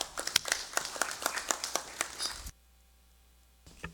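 Scattered clapping from a small group in a legislative chamber during a congressional session: distinct, fairly sparse hand claps for about two and a half seconds, then abrupt near-silence before a faint shuffle.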